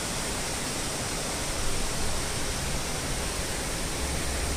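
Water pours down a hillside on a trek in South Korea, a dense, constant rushing roar close by with no break or talking.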